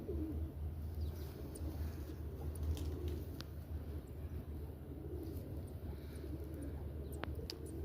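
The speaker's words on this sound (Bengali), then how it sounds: "ধরে রাখছি তো, এই জন্য ডরাইতেছে কবুতরটা, ভয় পাইতেছে।" A frightened long-tailed pigeon held in a person's hand gives soft, low cooing, faint and steady under a quiet, hissy background.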